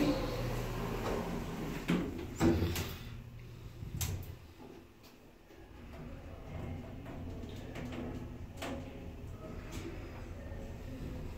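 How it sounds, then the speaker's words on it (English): Lift doors at the Derby station platforms sliding shut with a few clunks and thumps, then a low, steady mechanical hum as the lift travels down. "going down. Doors closing."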